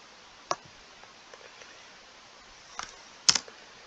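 Sparse keystrokes on a computer keyboard type out a file path, with a few isolated clicks and a sharper key press near the end, quiet and alone.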